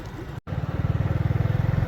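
Motorcycle engine running while riding on a cold early morning, a steady close pulsing rumble after a brief dropout, with slight wind clatter.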